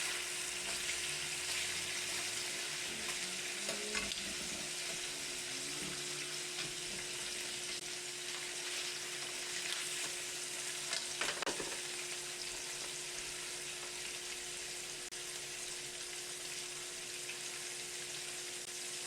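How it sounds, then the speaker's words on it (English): Food frying in bacon grease gives a steady, quiet sizzle and crackle that runs throughout, with faint stirring clinks and a brief clatter midway. "Why are you guys all having things in bacon grease?"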